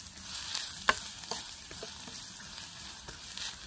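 Onions frying in a pan for a Mangalorean rice roti dish, a soft low sizzle with a few light clicks from stirring, fairly quiet throughout.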